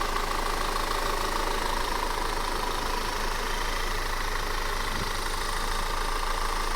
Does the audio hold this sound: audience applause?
no